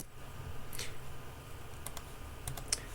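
Someone types a command on a computer keyboard, a few soft, scattered key clicks close by in a quiet room.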